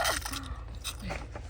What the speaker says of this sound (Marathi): चावून चावून खा रे भाऊ हुरडाय